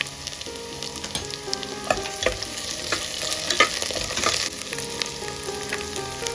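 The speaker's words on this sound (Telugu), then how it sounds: "ఆనియన్స్ కొంచెం వేగిన తర్వాత పచ్చిమిర్చి యాడ్ చేసుకోండి, అలాగే కరివేపాకు కూడా యాడ్ చేసుకోండి" Sliced onions, green chillies and curry leaves frying in a pan for coconut milk biryani, a continuous close sizzle with frequent spoon stirring clatter and scraping.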